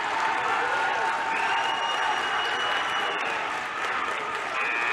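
A packed gym crowd at a 2021 WIAA boys basketball playoff game, Port Edwards at Wauzeka-Steuben, applauds and cheers on their feet in a steady, loud roar of clapping that lasts throughout, with a voice faintly under it.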